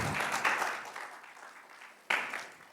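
Applause from a church congregation during a Sunday service, a short burst of clapping that fades, then a fresh loud burst near the end.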